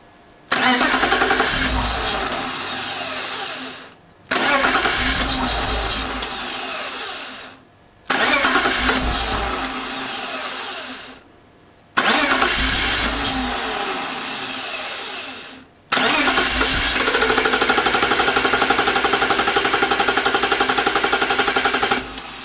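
BMW E36 engine cranking on the starter, catching and firing up, then dying out, repeated four times in a row with short silent gaps between attempts; loud and close, with no talk.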